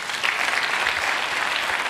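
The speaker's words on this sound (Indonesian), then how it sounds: "Tepuk tangan." Audience applause at a talk about recession and banking in Indonesia, a dense steady wash of clapping that fills the whole stretch at even loudness, with no voices over it.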